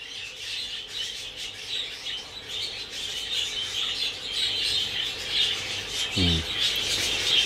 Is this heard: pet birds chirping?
yes